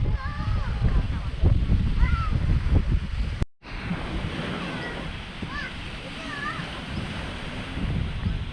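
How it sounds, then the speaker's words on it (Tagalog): Strong gusty wind buffets the microphone outdoors near water, a loud continuous roar with rumbling low-end bursts, overlaid by someone talking at several points. "Yan mga katayo, sobrang hangin talaga."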